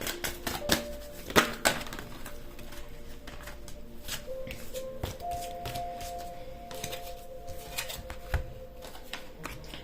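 Tarot cards being shuffled and drawn at close range, with a burst of riffling, then crisp flicks and slaps as single cards are pulled and laid down, quiet and without talk.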